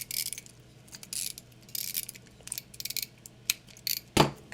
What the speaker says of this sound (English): I don't feel like getting my wrench right now, so we're just gonna freehand tighten this.